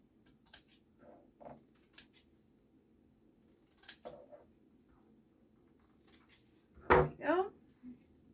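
Scissors snip through black mesh being trimmed to fit a 10-inch beehive frame, a few quiet cuts spaced apart and then a louder, closer burst of snipping near the end.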